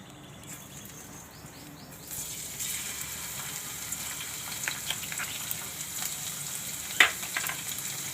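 Ginger dropped into hot oil for a Manchurian recipe, giving a steady close sizzle that rises after the first couple of seconds and holds, with small crackles and pops scattered through it.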